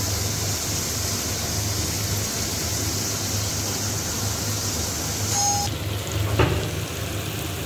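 Chicken masala frying in a pan, a steady, close hiss of sizzling oil running the whole time with a faint clink partway through and no talking.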